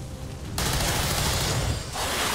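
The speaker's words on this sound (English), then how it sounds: "Let's keep shooting." Gunfire in the strategy game XCOM 2: War of the Chosen, a sustained burst of loud shots that starts abruptly after a quiet moment, rattles on for over a second, dips briefly and then picks up again.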